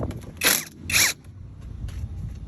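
A bolt is loosened and removed on a 2008 Honda Accord during a driver-side CV axle replacement, making two sharp creaking, ratcheting bursts up close, followed by faint clicks and low shop noise.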